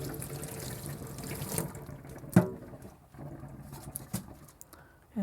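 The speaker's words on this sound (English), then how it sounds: "And now we're just going to rinse it." Kitchen tap water running over a litho printing plate during rinsing, a continuous splashing stream with patter and small knocks, close and steady without talk.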